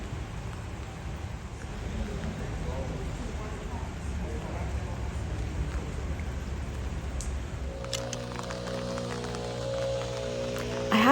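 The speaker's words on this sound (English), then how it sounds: "it is so relaxing with the rain on the umbrella" Steady rain patters on a taut umbrella overhead at a garden's waterlily ponds, a soft continuous drumming close by; toward the end other sounds and a brief tonal noise join in.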